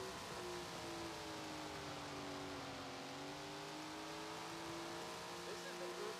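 A sprint car engine roars at steady high revs during a qualifying lap in the Tony Stewart's Sprint Car Racing video game, a continuous buzzing drone with slowly shifting pitch and no talk.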